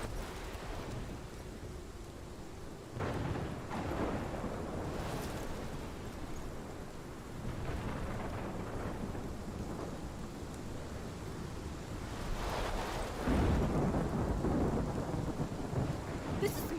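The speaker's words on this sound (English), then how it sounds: "This is my storm." Thunderstorm in the video game Life is Strange, with steady heavy rain and rolling thunder cracks that swell around the middle and again near the end, loud and continuous with no voices.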